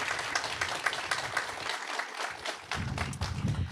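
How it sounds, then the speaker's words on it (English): Audience applause at a charity giving event, a steady patter of many hands clapping that briefly thins, then swells back strongly toward the end. "please give a big round of applause for Chad"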